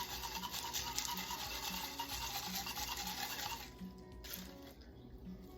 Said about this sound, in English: Stir it up just a little bit more.